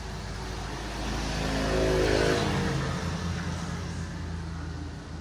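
A Honda PCX ABS scooter engine idles steadily up close after a fresh oil change, its low hum swelling slightly in the middle before settling back to an even drone.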